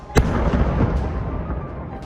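Controlled detonation of an old German 2,000-pound bomb: a single sharp blast followed by a long rumbling roar that slowly dies away, heard from a distance.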